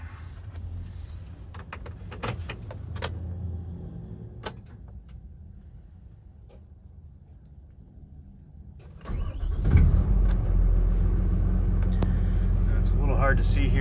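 A 2020 Hino 268A 26-foot box truck with air brakes cranks and catches after a few quiet clicks and rattles in the cab, then settles into a loud, steady diesel idle close by.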